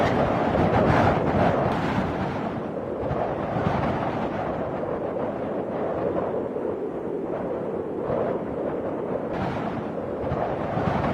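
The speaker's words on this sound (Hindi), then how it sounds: "अरे यार, ये इतना तेज हवा कहाँ से लगने लग गया? और ये तो आंधी आया है" Strong storm wind roars steadily and loudly across the whole stretch, a dense broadband rush with gusty swells and no clear pauses.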